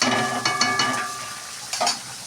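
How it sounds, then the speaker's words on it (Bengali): Fish curry (macher jhol) with potatoes cooks in a pot, a soft bubbling sizzle broken by several sharp utensil scrapes and clinks against the pot, close and without talk. "মাছের ঝোলটা কত সুন্দর ফুটছে"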